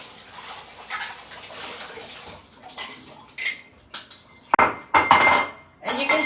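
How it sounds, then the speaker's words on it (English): Running tap water splashes over a bowl being quickly rinsed in a kitchen, with a steady hiss at first, then bursts of clinks and knocks of the dish against the sink, with short quiet gaps between. "Just a quick wash of the bowl."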